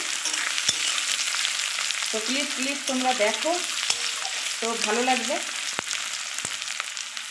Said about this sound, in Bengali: দেখো আলু আর পেঁয়াজ ভাজা হয়ে গেছে হালকা করে, এবার আমি ঢেঁড়সটা দিয়ে দিলাম।